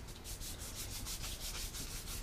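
Rhythmic rubbing strokes as a wooden Masutani spoon is polished with a pad or coarse cloth, close and steady, each pass a soft scratchy swish repeating quickly.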